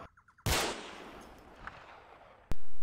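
A loud gunshot booms in a video game, and its echo decays slowly. A second sharp shot cracks near the end, followed by sustained loud noise.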